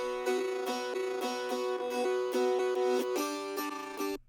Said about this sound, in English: I just took this little chunk here and I did a reverse on it